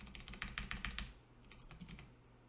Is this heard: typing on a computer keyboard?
yes